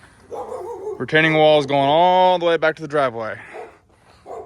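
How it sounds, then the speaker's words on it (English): Repeated dog barks ring out close by while someone talks over them, the barking coming in short bursts. "Pardon the barking"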